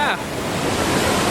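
Roaring waterfall at a tropical site in Bali, a steady broadband rush of falling water, loud and continuous throughout, with a brief voice at the very start.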